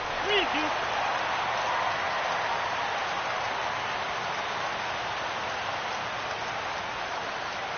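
A stadium crowd in a PS4 baseball video game rises for a full 3-2 count, its steady, dense roar filling the scene like continuous hiss with no break.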